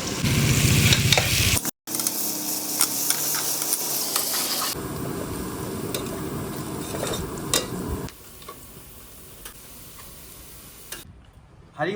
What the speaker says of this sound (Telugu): దానికి ముందుగా ఈ ఆనియన్ ఫ్రై చేసుకుందాం.